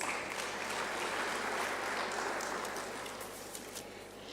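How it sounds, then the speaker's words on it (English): A conference audience in Gaborone claps in sustained, dense applause that holds steady and then gradually thins and fades over a few seconds, heard from within the hall with no speech over it. "let us give NPOs another round of applause"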